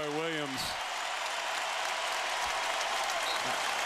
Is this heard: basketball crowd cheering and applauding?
yes